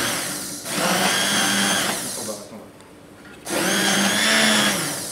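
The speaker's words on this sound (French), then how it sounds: "Il n'y a plus qu'à mixer." A blender purees cauliflower soup simmered with cream, roaring loudly in two bursts with a short pause between them.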